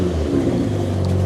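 A 2019 Lexus RC350 F Sport with undercarriage damage revs briefly, giving a short, loud, steady low engine rumble heard up close with no voices.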